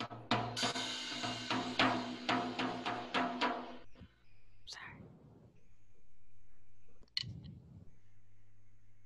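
A quick run of a dozen strikes on a middle tom drum in a rapid roll, then mostly quiet with a couple of soft, brief rustles.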